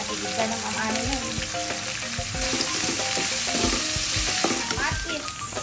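Garlic and onion sizzling and being stirred in hot oil as a base for pinakbet, a steady close crackling fry with scraping utensil strokes, no talking.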